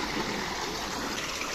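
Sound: running water in a village stream

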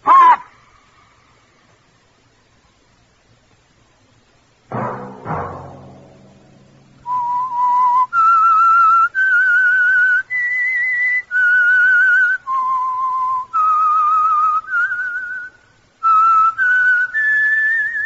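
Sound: whistled theme signal of The Whistler radio show

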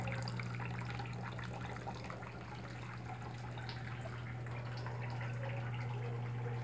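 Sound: water falling in grotto cascade and from jars

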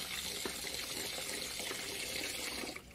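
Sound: water rinsing grated papaya

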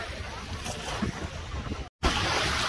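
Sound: La Mer beach, Jumeirah, waves and wind

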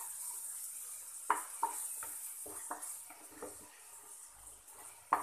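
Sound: stirring chole masala with spices in a pan

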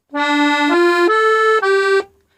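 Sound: accordion musette register

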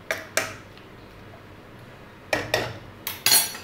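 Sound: covering the pot of mango chunda with a lid

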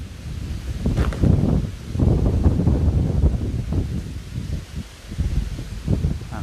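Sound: strong wind blowing outdoors

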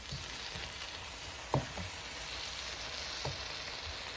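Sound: stir-frying Thai chili paste with pork

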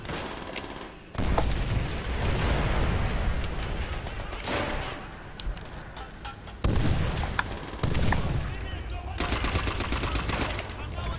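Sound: sniper gunfire in the video game Left 4 Dead

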